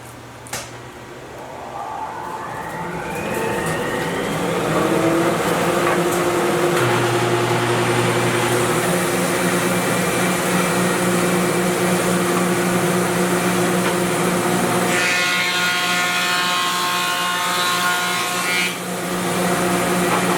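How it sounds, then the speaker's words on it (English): A jointer-planer's knives cut a board of rough lumber, a loud close motor whine rising into a harsh, steady cutting roar that changes pitch as the pass continues. "that's the part that's going to get cut by the knives on the planer"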